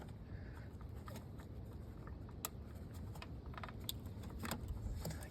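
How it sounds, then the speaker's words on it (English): Throttle clips come off the throttle body of a Jeep Cherokee XJ, giving small metallic clicks and light jangling taps close by against a quiet background hum. "you gotta remove your throttle clips"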